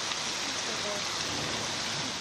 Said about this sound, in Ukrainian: Тут ішов 20 минут град.